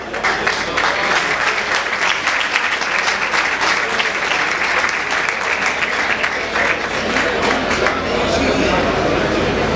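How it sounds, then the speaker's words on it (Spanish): Strong, sustained applause from an audience at an evening tribute event, many hands clapping loudly and continuously with a murmur of crowd voices mixed underneath. "Damas y caballeros, fuerte el aplauso para el señor Matilla."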